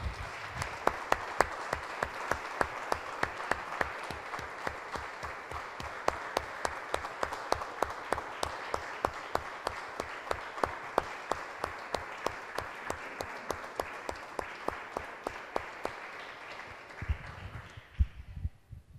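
A church congregation claps in a steady unison rhythm, a long run of evenly spaced hand claps over a softer wash of applause, ending as a voice starts to speak.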